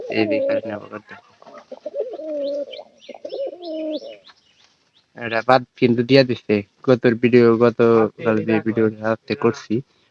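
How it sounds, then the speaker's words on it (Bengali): Pigeons kept for their calls coo in close, repeated rolling phrases, with several birds overlapping in a near, fairly loud bout. "আমাদের সব পায়রা আমরা ডাকের পায়রা আর অনেক ডাকতে পারে"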